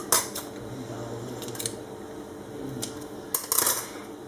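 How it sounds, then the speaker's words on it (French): Scissors or a knife snip the end off a folded brick pastry triangle filled with ricotta and onion, a few brief crisp clicks and rustles spaced over a quiet kitchen background. "Et là, je coupe l'extrémité."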